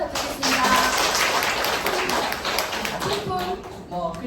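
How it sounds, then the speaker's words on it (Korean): Clapping from an audience at a company presentation, a fairly close, busy patter of hands that gradually thins out while voices talk over it. "앞으로 성장하시라고 박수 한번 부탁드리겠습니다"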